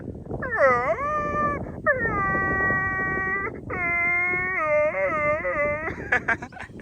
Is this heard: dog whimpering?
yes